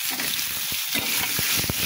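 Pointed gourd (potol) being fried and stirred in a pan, a continuous close sizzle with occasional scraping stirs.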